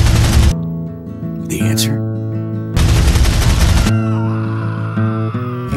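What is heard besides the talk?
gunfire in a video game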